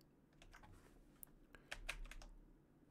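Someone types on a computer keyboard during a Roblox baseball game, with quiet scattered keystroke clicks and a few sharper taps close by, no talking.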